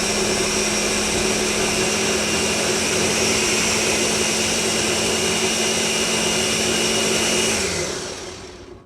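A blender runs on hot chicken tikka masala sauce with a loud, steady whirring roar and a constant motor whine for several seconds before spinning down and fading at the end, with no talk over it.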